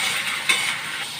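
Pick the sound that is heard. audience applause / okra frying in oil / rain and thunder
okra frying in oil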